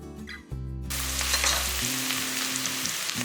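Sliced large onions sizzle steadily in a hot pan for vegetable biryani, salted to soften, a loud continuous fry that starts abruptly and holds close and even, with faint stirring.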